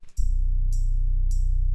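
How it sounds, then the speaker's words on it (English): A low, filtered synth sub bass drones continuously under three short bright percussive hits spaced evenly apart, played in Maschine. "I have filtered sub, and it sounds like this here."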